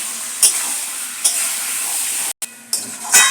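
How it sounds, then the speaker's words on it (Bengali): Spicy chicken pieces being stir-fried kosha-style in a pan, a continuous close sizzle punctuated by several spatula scrapes and stirs, with a brief dropout near the end. "দেখুন খুব সুন্দরভাবে আবার কষা হচ্ছে মাংসটা"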